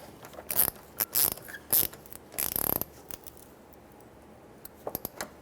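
A ratchet with a 10mm socket snugs a parking brake cable bracket bolt on a 1995-2004 Toyota Tacoma, making short bursts of sharp close clicking, then scattered lighter taps and clicks.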